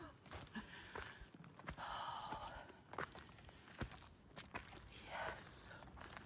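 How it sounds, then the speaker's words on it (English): A hiker breathes hard while climbing uphill on a mountain trail, with repeated heavy sighing exhales and gasps and footsteps crunching underneath, close and fairly quiet. "Sorry you have to listen to my heavy breathing for a minute."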